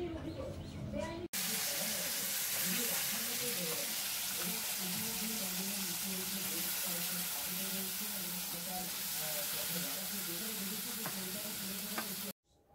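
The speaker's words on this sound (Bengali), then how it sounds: "ওইদিকে কিন্তু মা থোড় ভাজাটা করছে" Banana stem frying in a pan, a loud, dense hiss of sizzling oil running steadily and close for several seconds with faint stirring underneath.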